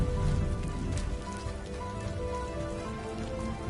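Steady rain patters on surfaces in the video game Rime, a dense, even hiss of drops with no voices.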